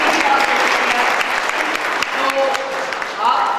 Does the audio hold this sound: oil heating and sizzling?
no